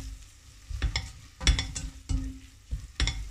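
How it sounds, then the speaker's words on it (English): Beef chilli fries in a pan, with a soft sizzle under repeated scraping stirs of a utensil, each stroke clear and close. "So I'm going to add all that up now. Let that cook a bit."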